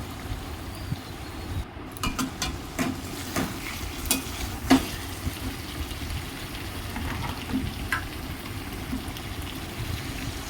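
A small portion of meat sautés in a pan for a thin curry. A soft, steady sizzle runs beneath repeated sharp clinks and scrapes of a spoon stirring against the metal. No voices are heard.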